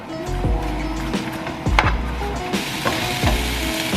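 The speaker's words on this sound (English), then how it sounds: "Now straight into the pan, I'm just going to add all these veggies. And I'm going to cook those until they're all soft." Vegetables fry in a pan for a family dinner, giving a steady, loud sizzle with crackling bursts and occasional stirring scrapes, no voices.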